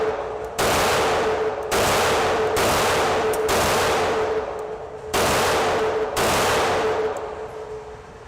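Polish Vis 35 9mm Parabellum pistol fired at a range, several loud sharp shots spaced about a second apart, each with a long ringing outdoor decay that overlaps the next.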